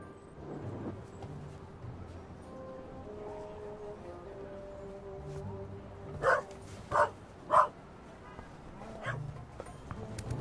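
A dog in a video game gives three sharp, loud barks in quick succession over a murky background rumble, with faint whimpering yips before and after.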